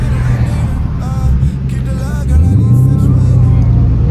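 A 2021 Dodge Challenger 392 Scat Pack rumbles from inside the cabin in normal mode, its deep engine note holding steady and then rising as the car pulls forward, loud and continuous.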